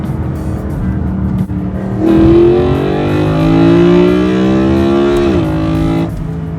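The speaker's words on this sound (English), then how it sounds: "it sounds amazing, the induction noise" A modified BMW E93 M3 engine revs up with a loud, rising intake roar, holds for a few seconds, then drops off as the throttle closes.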